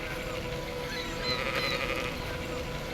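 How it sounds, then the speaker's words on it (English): Stray sheep on a hill out on a moor, faint bleats rising in the distance over a steady outdoor hiss. "We came across some stray sheep on a hill just standing there watching us."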